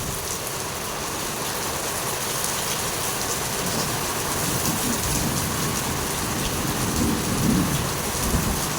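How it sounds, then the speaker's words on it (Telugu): Steady heavy rain pours down with a dense hiss, and low rumbling from thunder rolls faintly beneath it. "ఉరుముతుంది మెరుస్తుంది వర్షం"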